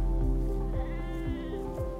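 Hardy desert sheep kept for grazing-based land management bleat loudly and close by, several wavering calls overlapping across a steady farmyard background.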